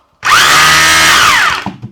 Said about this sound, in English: Well, drill seems to work.